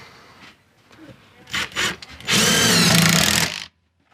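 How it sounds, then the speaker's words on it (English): A power drill driving screws into a sawhorse, with soft handling knocks first, then two short bursts and one longer close whirring run that stops abruptly, followed by silence. "We just want to square that up and run our screws into the holes just like we pre-drilled."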